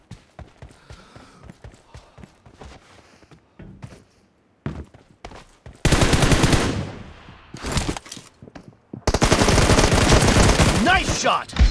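Rapid automatic gunfire from a PUBG-style shooter game rattles out in loud, dense bursts after a stretch of quieter footsteps and scattered shots, with a long sustained volley near the end.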